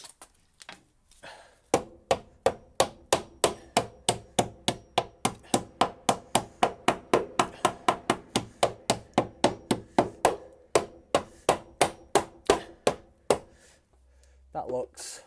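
Steady metal hammer blows round off the edge of a widened wheel arch on an Alfa Romeo Giulietta, a long run of about thirty sharp, evenly spaced strikes close by, with a short burst of other noise at the end.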